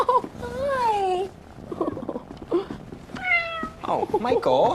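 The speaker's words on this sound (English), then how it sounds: "It's a kitty cat." A cat meows in a few drawn-out, rising and falling calls, close by, with people chattering around it.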